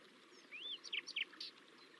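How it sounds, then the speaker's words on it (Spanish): Forest birds sing faintly at a distance, giving a short rising whistle and then a quick run of bright chirps over a soft background hush. "Notas los cantos tan diversos y armoniosos de los pájaros"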